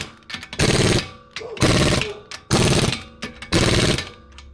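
An impact wrench gives the wheel nuts of a 2014 Honda CR-V their final tightening in four loud, close bursts of rapid hammering, each about half a second long and separated by short pauses.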